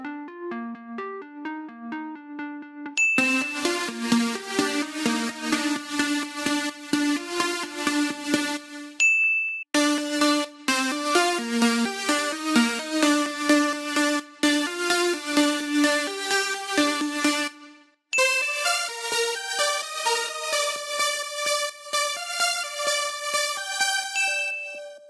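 EDM synth lead layers play in sequence, each a bright, plucky melodic riff of rhythmic repeated notes, loud and clean, separated by brief silences and ending on a higher, sparkling layer.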